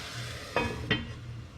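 Coconut chicken cooking in a pan on low heat, a steady soft sizzle with two brief stirring scrapes close by.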